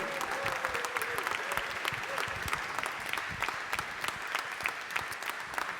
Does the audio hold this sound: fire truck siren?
no